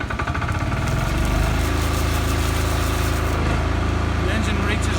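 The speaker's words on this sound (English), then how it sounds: "The engine reaches normal RPM running speed." A bowser pump engine runs steadily at normal operating speed after starting, a continuous mid-pitched mechanical drone with a faint vibration, loud and close, with a voice talking over it.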